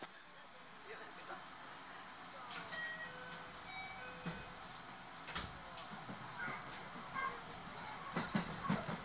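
Inside a JR Airport Rapid commuter train bound for Osaka as it departs and runs: a low rumble and rattling with rhythmic wheel clacks building steadily, with occasional voices over the carriage noise.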